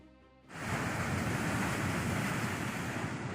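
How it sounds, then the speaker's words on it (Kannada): Loud, roaring surf of huge monsoon waves crashing on the Karnataka shore during heavy rain, a dense continuous wash of noise that swells in after a quieter moment. "ರಕ್ಕಸ ಗಾತ್ರದ ಅಲೆ ಅಲೆಗಳು ಬಂದು ದಡಕ್ಕೆ ಅಪ್ಪಳಿಸುತ್ತೆ"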